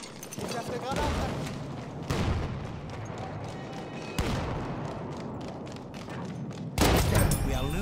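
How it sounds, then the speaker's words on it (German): Grenade blasts on the Fort De Vaux map in Battlefield 1 come as several sudden heavy booms amid ongoing gunfire, with in-game voices shouting over the battle. "Granate ist raus! Aufpassen! Ich hab eine Granate!"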